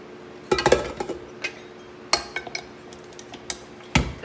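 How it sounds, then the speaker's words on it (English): Sugar and baking soda stirred in a bowl for a Coca-Cola cake, a utensil knocking and clinking against the bowl in scattered, irregular taps, close and fairly quiet. "I'm just going to mix this up real quick"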